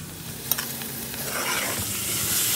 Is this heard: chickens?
no